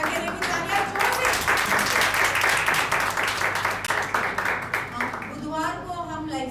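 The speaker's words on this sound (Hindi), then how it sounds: "तालियां जोर से" Congregation clapping during a Sunday church service, a brisk, loud mass of hands that thins out near the end as a voice begins speaking over the tail.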